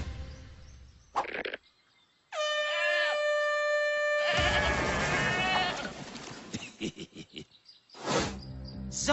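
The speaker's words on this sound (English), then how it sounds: "look out for the flying mutant fire-breathing mountain goats" A goat bleats loudly in long, wavering cries, with a few shorter bleats and sharp noises between them.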